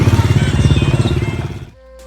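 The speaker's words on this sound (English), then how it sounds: "These are all the tuk-tuks." Tuk-tuks at Angkor Wat idle and rumble close by, a loud pulsing motor chug that fades out after under two seconds.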